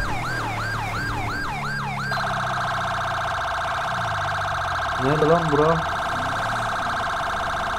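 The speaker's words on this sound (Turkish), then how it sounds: "Bir sireni bir çakayım ben." A police car siren in GTA 5 with the LSPDFR mod wails in rising and falling sweeps, then switches to a steady tone that holds to the end, with a short burst of warbling yelps midway and someone speaking briefly.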